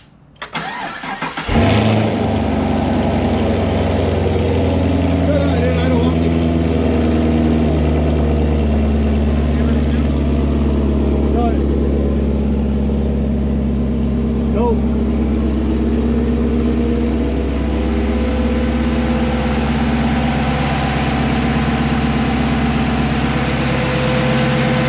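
A Chevrolet Camaro LT1 fitted with an AFE carbon cold air intake cranks and fires after a brief quiet moment, then settles into a loud, close, steady idle with a slightly uneven rumble that holds to the end.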